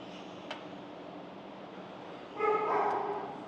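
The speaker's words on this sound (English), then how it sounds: "Shut my dog up." A pet dog lets out a brief burst of whimpers and high yips near the end, after a stretch of quiet room tone in a home workout space.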